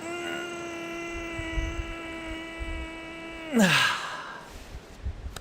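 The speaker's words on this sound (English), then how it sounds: "as we take a deep breath in and squeeze" A single deep inhale taken during a guided morning gratitude moment, following a steady ringing tone that fades; the breath is a brief, close, breathy rush with no talk over it.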